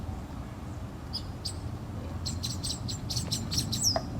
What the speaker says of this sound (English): You're hearing all these birds back here?